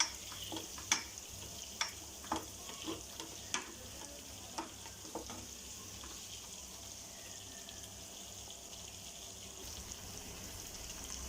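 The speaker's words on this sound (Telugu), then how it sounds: "ఇది కూడా సిమ్లో పెట్టి ఫ్రై చేసుకుంటున్నాను" Food fries slowly in a pan on low heat with a faint, steady sizzle broken by occasional soft pops and clicks, heard close up with no talking.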